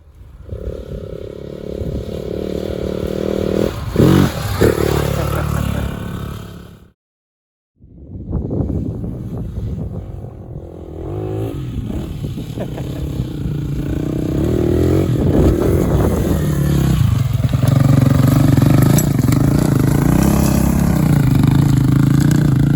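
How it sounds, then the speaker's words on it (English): A motorcycle engine revs hard and loud during a burnout on a steep snowy slope, with a brief cutout and then a sustained, rising roar and some clattering scrapes. "Quite steep if you can tell from the burnout."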